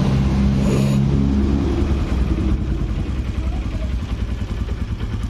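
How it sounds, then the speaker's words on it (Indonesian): A freshly rebuilt Yamaha Jupiter MX motorcycle engine with a new bore and head idles close by, a low steady thrumming pulse with some mechanical clatter, holding an even rhythm throughout. "Mesin udah beres Pak, alhamdulillah nih suara mesinnya lembut."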